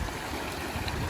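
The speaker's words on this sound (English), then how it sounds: "Yeah, that's a pretty good creek." Creek water on a coastal trail south toward Santa Barbara, flowing and gurgling steadily at close range without a break, with no voices.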